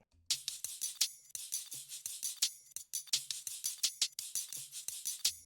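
A busy run of bright shaker hits and crisp hi-hat ticks over a light drum loop, steady and rhythmic, fairly quiet.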